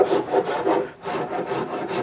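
Rough side of a Shinto saw rasp filing a wooden workpiece, about ten rhythmic rasping strokes close up with a brief pause near the middle, dry scratchy texture, no talking.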